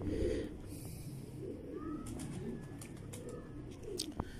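Pigeons of Ustad Mian Nazir's strain, show birds with red-flecked eyes and broad wings, give soft low cooing in a quiet loft, steady and close with a few faint chirps over a low background hum.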